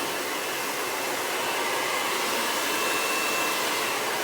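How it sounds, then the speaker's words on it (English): A hair dryer blow-drying textured hair gives a loud, steady, close-up rushing whoosh of airflow, unbroken for the whole stretch with no voices. "And James, if we're blowing out textured hair, what size sections should we be working with?"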